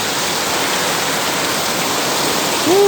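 Heavy rain pounds a roof in a loud, unbroken roaring hiss that fills the whole stretch, with a brief squeaky tone rising near the very end.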